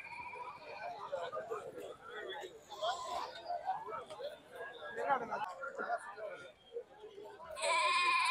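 Goats bleating at the Kunnathur goat market in a busy outdoor livestock sale, calls rising through a dense crowd of talking voices, with a louder, brighter burst near the end.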